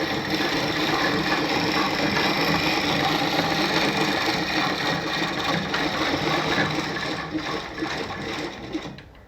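A Singer 306K sewing machine runs continuously, a dense mechanical whirr and rapid needle chatter, loud and close, easing slightly near the end, with a voice speaking faintly underneath.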